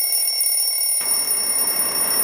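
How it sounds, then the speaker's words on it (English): An alarm clock rings loud and shrill in a steady, continuous high-pitched tone, with a thin bed of noise until a sudden jump to a harsher, fuller ring about halfway through. "The first thing you heard that morning was your alarm, loud and shrill."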